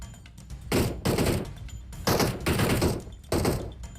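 Gunfire in PUBG Mobile, three loud bursts of rapid shots at close range, each lasting about half a second to a second, separated by short gaps, with no talking.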